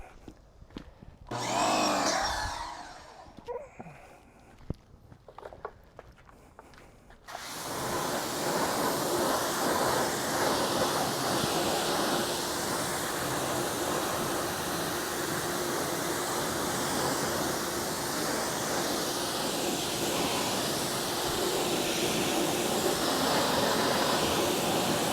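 Water sprays hard onto a car wheel and tire, a loud steady hiss and rush that runs unbroken for a long stretch after a few brief handling noises.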